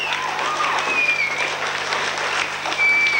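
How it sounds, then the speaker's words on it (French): Audience applause at a school show as the teaching staff join the final on stage, with steady, continuous clapping throughout and faint whistles and cheers above it. "vous pouvez les applaudir bien fort"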